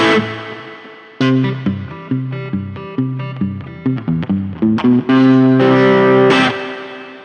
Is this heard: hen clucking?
no